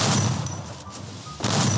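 Shotgun fire in a video game comes as dense, loud, close blasts that merge into a continuous roar with a brief dip before surging again.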